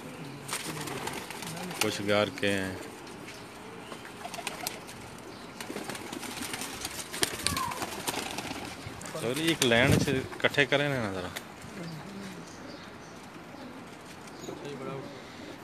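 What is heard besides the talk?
Lakha pigeons cooing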